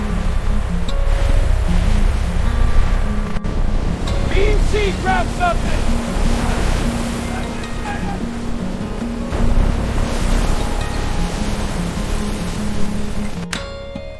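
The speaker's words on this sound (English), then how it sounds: "The sea is building behind us. We've got the following sea pushing us back. Waves are getting bigger." Big following sea surges behind a fast twin-engine sport fishing boat running home at about 30 knots on a deep-sea snapper trip: steady loud wash, spray and wind roar with a low engine drone, and a shouted voice over it.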